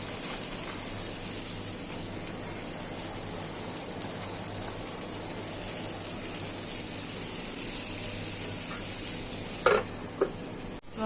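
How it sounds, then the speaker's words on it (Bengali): A Bengali spice paste fries in a pan before minced meat goes in, giving a bright, steady hiss that runs almost unbroken, with a couple of brief utensil knocks near the end. "মশলাটা কষানো হয়ে গেছে, এখন এই গোস্তের কিমাটা আমি দিয়ে দিব।"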